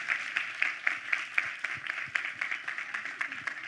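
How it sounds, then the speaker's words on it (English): Audience applause at a SINFO conference talk, a steady run of fairly distant, even clapping that holds for several seconds at low volume. "can we please just give a round of applause to all the organizers, the students, everybody who made this happen?"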